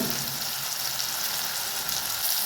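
Ginger, garlic and coriander paste fries in hot oil with a steady, close hiss and crackle that holds evenly throughout, with no one talking.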